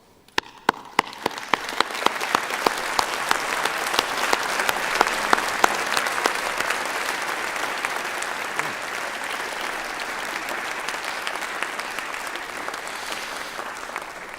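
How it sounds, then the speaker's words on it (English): Applause from a graduation ceremony audience rises quickly and holds as a dense, steady wash of many hands clapping in a large hall, staying full and even with no talk over it. "join me in a round of applause to say thank you to those who have helped you reach this important"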